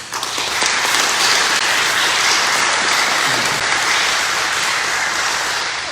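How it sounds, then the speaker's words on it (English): Audience applause for mayoral candidates at a merchants association mayors forum, a steady, dense crowd clapping that holds at full level throughout with no voices over it. "give a round of applause to these candidates in their desire and commitment for their service"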